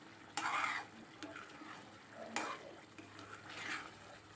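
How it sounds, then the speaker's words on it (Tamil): Rava halwa stirred with ghee in a pan, a soft scraping and sizzling with a few louder spoon strokes against the metal, fairly quiet and close, no talking. "இந்த மாதிரி நல்லா நம்மளுக்கு ஆயில் எல்லா சைடும் நம்மளுக்கு ஸ்ப்ரெட் ஆகிற அளவுக்கு நம்ம நல்லா இந்த மாதிரி கிண்டி விட்டுக்கணும்"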